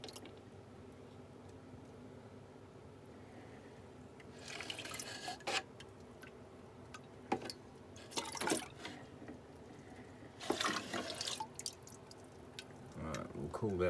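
Water is poured into a measuring cup while sugarwash is measured for an air still, coming as several splashing, trickling pours with drips and quiet pauses between them.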